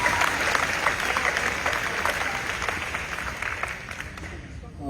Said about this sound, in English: would you clap your hands right where you